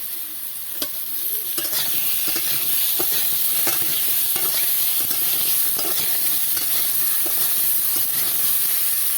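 Cut tomatoes tipped into a hot frying pan and stirred, giving a steady loud sizzle with repeated scraping strokes of the spoon throughout.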